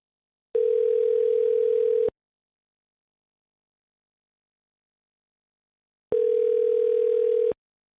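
Two long steady telephone tones, each about one and a half seconds, separated by several seconds of silence, heard while a call is placed back to someone; loud and clean with no voices.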